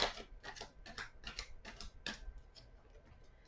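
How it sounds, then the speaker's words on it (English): Tarot cards being shuffled during a reading, a quick run of soft, papery flicks and taps in a steady rhythm that fades toward the end, close and fairly quiet. "One more shuffle."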